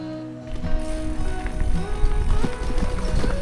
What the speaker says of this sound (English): There's probably 15 to 20 donkeys in this field.